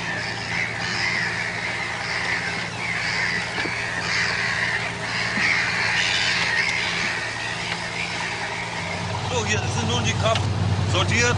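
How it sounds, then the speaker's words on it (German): A huge flock of gulls calls over a boat, many overlapping squawks and cries against a constant engine drone, with a shift in the engine tone near the end. "Der riesige Möwenschwarm ist ganz gierig auf alles, was wir über Bord geben."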